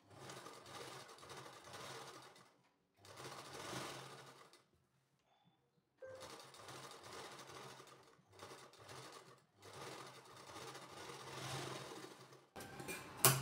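A sewing machine stitches the back neck of a kurti in runs of steady, fast whirring, with short pauses between bursts and a faint clunk at the end.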